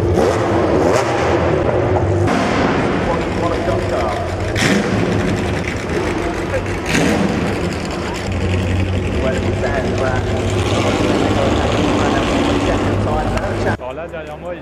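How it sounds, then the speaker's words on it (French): Classic cars at the London Classic Car Show dynamic demonstration on the Grand Avenue, engines droning and revving loudly as they pass, with someone talking over the continuous motor noise throughout. "et donc on voit les voitures rouler."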